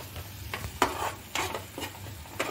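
A spoon stirs red chilli powder and turmeric frying in a pan, scraping softly in irregular strokes over a quiet, steady sizzle, close and faint.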